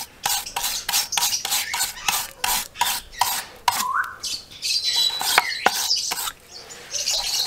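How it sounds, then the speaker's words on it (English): A wire brush scrubs gunk and rust out of a Ford Bantam clutch housing in close, loud, repeated rasping strokes with brief pauses between bursts. "Sometimes you get some gunk and rust and stuff in here, so just use a wire brush and get all of that out there."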